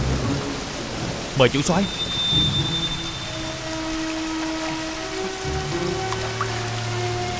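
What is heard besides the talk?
sudden rain shower with thunder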